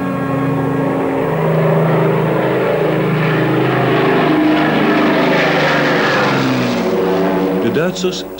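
Allied propeller aircraft flying over to drop food during a wartime ceasefire, a loud droning engine roar with shifting pitch that swells and passes, under narration.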